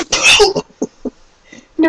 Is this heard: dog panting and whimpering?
no